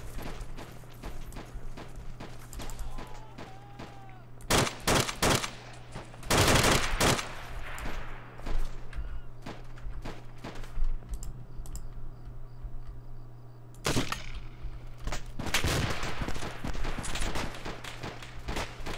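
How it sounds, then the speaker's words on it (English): Bursts of rapid gunfire crack out in short volleys in the video game ARMA 2, over a soft, constant hum, with quieter clicking between the louder fusillades. "Oh shit, gunfire."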